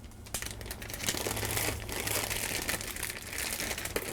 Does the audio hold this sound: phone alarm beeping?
no